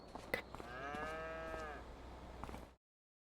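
Holstein cows in Farming Simulator 25 give a single drawn-out moo, clear and fairly close, fading out after a few seconds with no talking.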